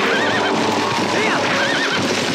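A horse neighs and whinnies over galloping clip-clop hooves during horseback combat in the Zelda Twilight Princess HD video game, with loud game audio running throughout.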